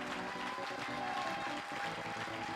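A church congregation claps steadily and loudly as a crowd, the applause filling the room without a break and with no clear voices over it.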